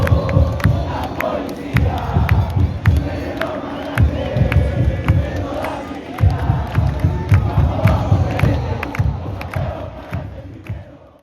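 Large football crowd at a Universitario match in Lima roaring and chanting continuously after a goal, a dense, loud wall of voices with rhythmic surges and sharp bursts throughout.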